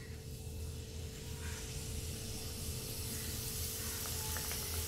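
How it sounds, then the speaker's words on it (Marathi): Karanji pastries fry in hot oil, giving a steady, quiet sizzle and hiss with a low hum beneath it. "आता करंजा तळण्यासाठी आता एक एक करून करंजा आपण तळून घेऊया."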